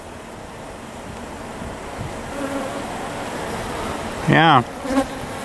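Honeybees hum in a dense, steady drone over an open hive full of queen cells, close and continuous, with a brief voice and a short louder buzz near the end.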